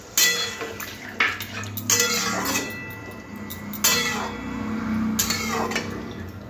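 A spoon clanks and scrapes against a cooking pot while half-boiled bottle gourd is stirred and mixed, giving a series of irregular metallic knocks and clinks close up with soft wet shuffling between them.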